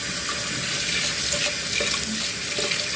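Hot tap water runs hard and steady from a faucet onto seitan dough in a sink, a loud, close, unbroken gush with no voices.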